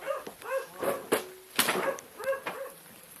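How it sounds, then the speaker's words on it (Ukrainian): A dog barks and yelps in a series of sharp, close calls spread over a few seconds, with short gaps between outbursts, outdoors near a marshy area. "Собака."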